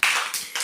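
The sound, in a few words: children clapping hands loudly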